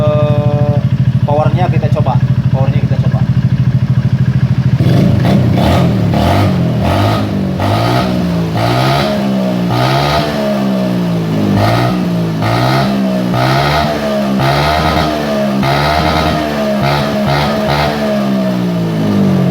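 Honda Beat FI scooter engine, freshly repaired, settling at idle then revved repeatedly in sharp rising and falling bursts close by, with a voice talking over it.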